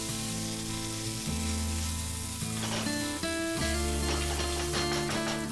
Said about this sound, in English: fry this until the tomatoes are nice and soft